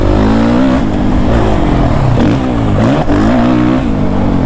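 A Suzuki RMZ 450 dirt bike engine roars loudly and continuously while being ridden, with the pitch rising and falling as the throttle opens and closes.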